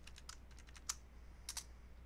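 Fingers tapping a computer keyboard while entering a password: a quick run of light clicks, then a couple of sharper keystrokes, close and clear over a quiet hum.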